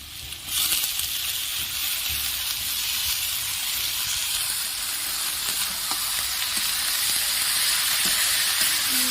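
A boiled banana flower drops into spice paste frying in a pan for a Bengali banana flower and shrimp curry, and a loud, steady sizzle with a hissing crackle rises right after the drop and continues throughout, with no talking.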